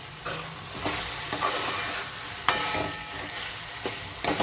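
Onion and tomato fry in a pan with a steady sizzle, punctuated by repeated stirring scrapes and occasional knocks of the spoon against the pan.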